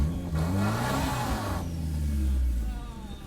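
A car engine, a turbocharged Toyota RAV4 or big-block Suzuki Jimny stuck in mud, revs hard and strains, rising and then dropping off, loud and close, with a voice underneath.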